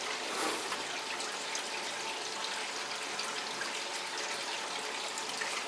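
Water gushes steadily from a wide-open hose during a washing machine leak check, a loud, continuous broadband rush that holds without pause from start to finish.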